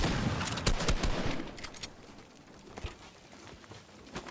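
Gunfire in Fortnite Battle Royale crackles in quick bursts of sharp shots, loudest at first and then thinning into sporadic, more distant pops over a hissy game background.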